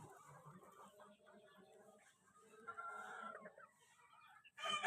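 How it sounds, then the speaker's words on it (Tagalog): A healthy four-month-old chicken clucks in short, fairly quiet bursts, with other fowl sounds around it and a louder noise near the end. "Healthy chicken. Four months old."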